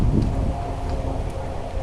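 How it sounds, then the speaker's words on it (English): Strong wind blows outdoors on a windy morning, buffeting the microphone with loud, rumbling gusts that stay steady throughout. "So yeah, it is very windy today."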